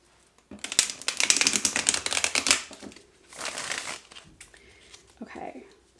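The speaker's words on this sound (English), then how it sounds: "So give it a little shuffle" A tarot deck is shuffled close by in a few quick bursts of crisp card riffling and crinkly flutter, separated by short pauses.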